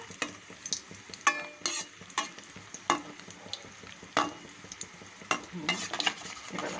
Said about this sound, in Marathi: चीजी नूडल्स पकोडा छान असे फ्राय करून घेऊया.